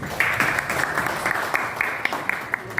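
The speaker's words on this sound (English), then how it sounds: "Let us all give them a round of applause" Audience applause at a press event for a concert homecoming tour in the Philippines, a steady patter of clapping from a modest crowd with sharper individual claps standing out, continuous for a few seconds.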